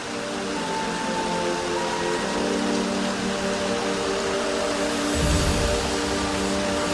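Rain spray falling steadily outdoors beside a parked motorbike during washing and polishing, a broad even wash of noise with a low rumble swelling near the end.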